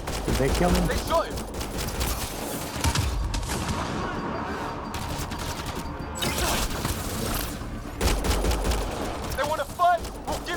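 Sustained gunfire in the sci-fi shooter Mass Effect: Andromeda, bursts of rapid shots and impacts filling most of the stretch, loud and close, with voices talking over the combat.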